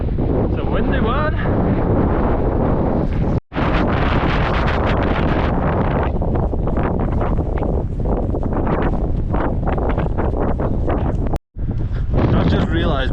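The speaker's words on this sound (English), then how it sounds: "It's a windy one." Strong wind roars and buffets the microphone continuously on a snowy mountain summit during a snowstorm, loud and close, with two brief dropouts.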